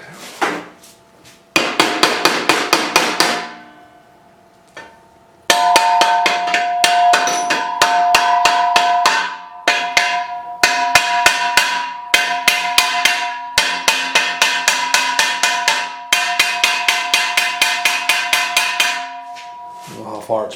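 Rapid bursts of metallic hammer taps ring out on a snow blower gearbox part, loud and close, in repeated series of quick regular strikes with short pauses between them.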